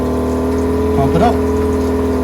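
A boat's sump pump drains shower water with a steady, loud, tonal electric hum and whir that holds unchanged from start to finish. A voice speaks briefly over it.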